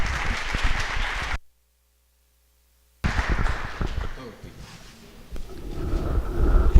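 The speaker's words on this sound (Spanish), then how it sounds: "Lo recibimos con un aplauso" Audience at a Mexican diplomatic history lecture applauding a guest, a dense roomful of clapping that cuts out abruptly for a gap, then returns and swells again toward the end.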